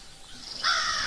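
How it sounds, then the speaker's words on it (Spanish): Birds from an ambient soundscape played for a tabletop role-playing session: a single crow-like caw rises out of quiet hiss near the end, fairly faint and alone. "Se oyen pájaros y demás"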